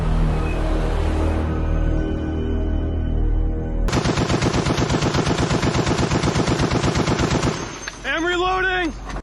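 Rapid bursts of gunfire at an outdoor gun club in Pitt Meadows, BC, loud and close. A dense rattling volley runs steadily for several seconds, preceded by a duller rumble and followed by a short whistling tone.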